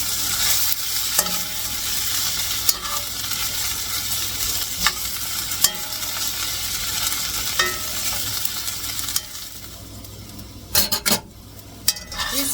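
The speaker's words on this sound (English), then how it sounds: "These fry up really quickly." Pieces frying in a pan until crispy, a dense continuous sizzle with periodic sharp utensil clicks and tosses, the sizzle thinning near the end amid a few louder clatters.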